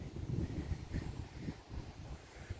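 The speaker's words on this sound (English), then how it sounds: "Windy, windy, windy, windy." Gusty wind buffets the microphone in bursts at a caravan and camping site in Haltwhistle, with low rumbling surges and some faint rustling.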